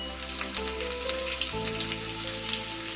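Chopped ginger and garlic sizzle in coconut oil in a wok, a dense steady crackle like light rain, with a faint tonal hum beneath.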